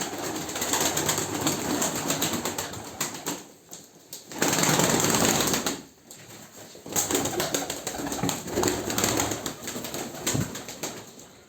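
Pigeons coo softly and steadily close by, with a brief flutter of wings partway through; no one speaks.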